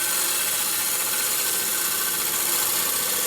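Wood lathe turning a maple burl bowl, the freshly sharpened tool taking a very small shaving; a steady, close scraping hiss runs unbroken with no voices.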